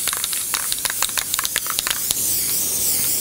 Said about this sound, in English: and then we'll spray the board.